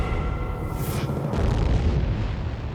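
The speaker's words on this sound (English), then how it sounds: "It's another huge explosion in the skies over the Cape as an Atlas Agena rocket disintegrates in midair." An Atlas Agena rocket explodes in midair: a deep, rumbling boom swells and rolls on, with a high whistling tone fading out just before the blast; heavy low rumble lingers afterward.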